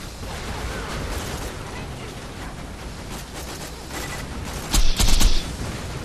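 Borderlands 2 game combat with a dense rattle of continuous gunfire, capped by a louder, boomy grenade-like blast near the end.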